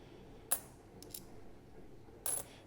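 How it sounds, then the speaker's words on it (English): Australian ten cent coins are flipped over and handled, giving a few sharp metallic clinks: one near the start, a light double tap in the middle and a last clink near the end, close and quiet with no talking. "So when I flip the coins over"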